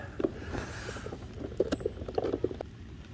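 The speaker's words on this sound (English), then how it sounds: "I'm glad I come out in the rain." Rain patters on and around a fast electric RC boat out on the water, with scattered light taps and small splashes coming at an uneven rhythm over a soft, steady background wash.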